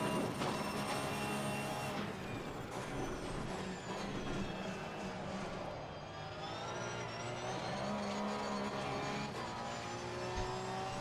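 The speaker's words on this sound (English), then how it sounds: "You can hear a lot of wheel spin." Porsche Cup race car without traction control in a sim racing game at Bathurst, engine droning continuously with squealing, warbling wheel spin across the whole stretch, steady and fairly loud.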